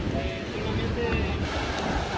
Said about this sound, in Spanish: Si bien algunas olas llegan hasta acá.